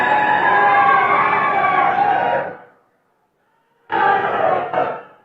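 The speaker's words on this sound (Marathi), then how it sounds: "मुश्रीफ साहेब उभे राहिले की इकडनं जास्त टाळ्या आणि समरजित राजे उभे राहिले की इकडनं जास्त टाळ्या." Crowd at a political rally for a statue unveiling in Kagal cheering and clapping loudly in two bursts separated by a sudden silence, the second burst shorter.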